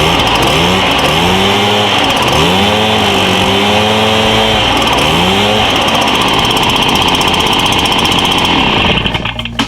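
A Stihl SR 430 backpack blower engine running after its spark arrestor screen was cleaned, loud and close, revving up and down in repeated swells before holding a steady high drone, then cutting off at the end.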